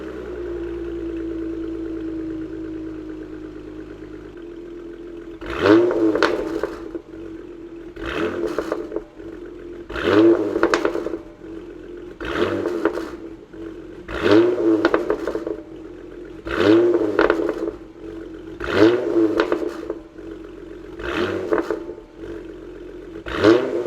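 A Dodge Challenger V6 idles, then revs sharply again and again in regular bursts, each followed by rumbling, popping burbles from the aftermarket exhaust, loud and close.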